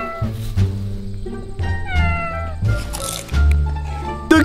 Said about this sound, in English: Oh, Mr. Cat, do you want some of these delicious peanuts?